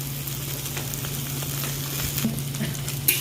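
Onions and ivy gourd fry in a pan, giving a steady, close sizzle that holds level throughout, with no talk.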